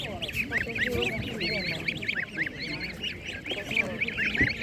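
Goslings at an animal market, a cluster of high peeping calls chattering continuously up close, with people talking faintly in the background.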